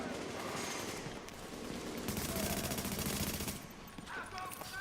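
Rapid gunfire from the video game The Division, a burst of repeated shots in the middle of the clip under game ambience, with speech-like sounds around it.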